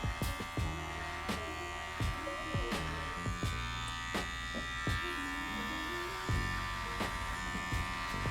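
Electric hair trimmer buzzing close up while cutting hair around the ear, a steady electric hum broken by repeated short strokes and clicks as it moves over the head.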